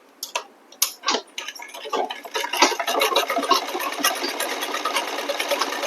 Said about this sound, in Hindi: इसी तरह से पेस्टन को मोड़ लेंगे और एकदम किनारे पर सिलाई लगा देंगे।